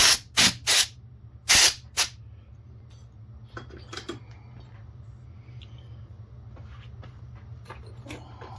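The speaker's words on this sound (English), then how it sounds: "let me get some compressed air here." Compressed air sprays from a can while a 3D-printed track tip connector is cleaned: several short, loud hissing bursts close together in the first two seconds, then quieter handling clicks and rustles.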